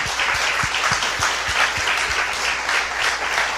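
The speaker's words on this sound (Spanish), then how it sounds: "Estos muchachos, denle un fuerte aplauso al Señor." A church congregation applauds steadily and loudly at a revival service, with dense clapping throughout and no voices over it.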